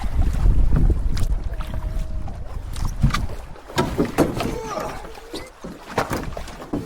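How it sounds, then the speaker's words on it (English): Strong wind gusts roar and buffet the microphone on a backcountry canoe trip in Quetico Provincial Park, a loud continuous rushing with water sloshing underneath and no voices. "Wind is brutal today."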